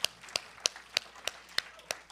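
Evenly spaced, crisp handclaps at a steady beat, faint and close, heard as the start of applause for a DJ at an evening event.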